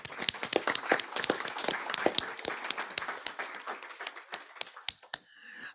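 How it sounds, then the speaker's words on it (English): A crowd at a Board of Deputies meeting applauds steadily with dense, sharp claps that gradually thin out and fade, ending in a few scattered final claps. "Let's give her a round of applause."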